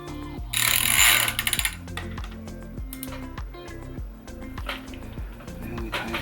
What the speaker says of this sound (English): I get my handy dandy ratchet